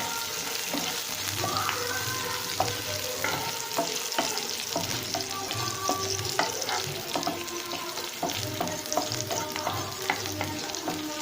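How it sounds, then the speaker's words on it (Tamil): Green chillies and large onions fry in oil with a continuous moderate sizzle, punctuated by repeated scraping and clinking taps of a stirring spoon against the pan. "நல்லா பச்சை மிளகாய், பெரிய வெங்காயமெல்லாம் எண்ணெயிலே ஃப்ரை ஆகுது"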